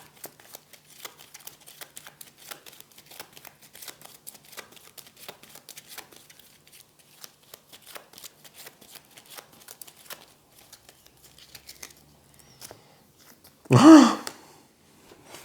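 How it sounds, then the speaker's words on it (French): A deck of cards is reshuffled during a solo game of the Aeon's End board game, with a long run of soft, rapid, close card riffles and taps, then one loud brief burst near the end. "Il n'y a plus de cartes hors du tout, on remélange."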